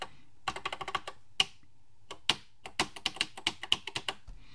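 Keys pressed on the keypad of a TEC-1G single-board computer kit, quick bursts of sharp clicky taps in uneven runs with short pauses, close and clear against a quiet background.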